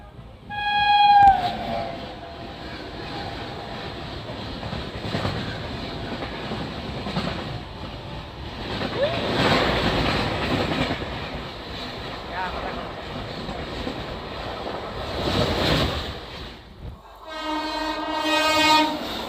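The Secunderabad–Guntur Express passes nearby, its loud horn sounding at the start and again near the end, with a rumbling roar of rolling carriages and wheels building and fading in between.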